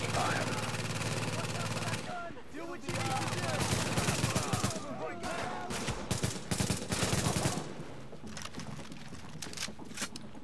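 Rapid bursts of automated turret gunfire in The Division video game, choppy clusters of sharp shots separated by brief gaps, loud and close amid busy game sounds.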